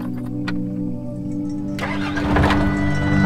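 A just-repaired car engine cranks and catches, its steady hum giving way to a louder roar as it fires up and revs, close by with no talking.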